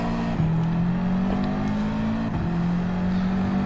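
A Subaru WRX engine in the Gran Turismo 7 racing game drones steadily at Monza, holding a sustained tone with small pitch shifts and brief dips over a few seconds, loud and continuous with no talk.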